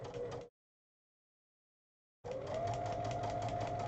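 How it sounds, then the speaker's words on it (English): A home sewing machine stitches steadily along marked lines on a progressive Pride flag project, a continuous mechanical whir heard in two stretches separated by a silent gap. "And I'm just stitching and stitching along the lines."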